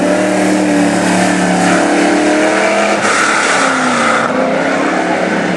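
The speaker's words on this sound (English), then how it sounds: "Next on the racetrack in the number 55 car from Dorena, this is Mike Baker." The number 55 race car from Dorena roars around the racetrack during a qualifying run at Cottage Grove: a loud, continuous engine drone whose pitch rises and falls as it accelerates and passes close by.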